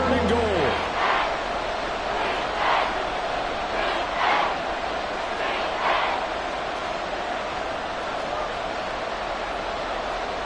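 A stadium crowd in an EA Sports football video game roars as a steady, broad wash of noise that swells slightly at moments, with a commentator talking over it.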